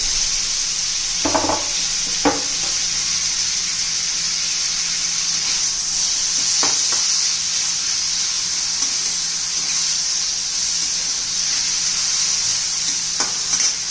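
Tomatoes fry in oil in a pan for a methi tomato chutney, making a steady bright sizzling hiss with a few scattered stirring scrapes, close up and without speech.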